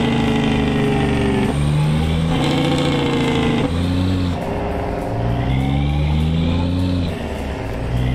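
A loud truck fitted with Jake brakes revs hard in repeated surges, its deep engine roar rising and falling in rhythmic waves close by, with nothing else audible.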